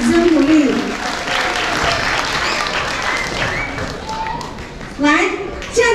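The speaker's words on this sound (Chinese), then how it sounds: "所以这时候我们再次为福山教会来给他们掌声鼓励" A church audience at an Atayal Christmas event in Wulai applauds a visiting church group with sustained, fairly loud clapping, framed by an amplified voice speaking at the start and again near the end.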